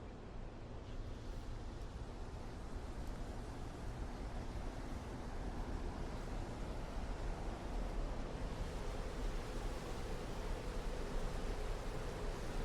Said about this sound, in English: And over here we got a waterfall.